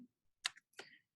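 A few quick, crisp keyboard clicks, irregular and close, with short silences between keystrokes.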